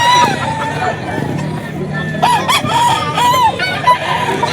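A young gamecock stag crows repeatedly at a busy gamefowl sale, its sharp rising-and-falling calls cutting through crowd chatter and talk nearby.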